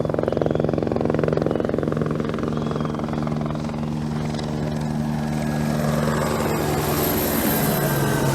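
A propeller aircraft roars with steady engine and rotor drone throughout, loud and close, the pitch gradually shifting as it takes off.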